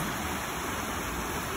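Flowing water outdoors, a faint, even hiss of running water like a stream, continuous and steady with no other sounds.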